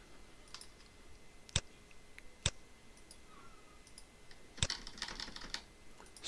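Keys clicking on a computer keyboard as a master password is entered for the Bitwarden password manager, with a few sharp isolated taps and then a quicker burst of keystrokes, close and fairly quiet.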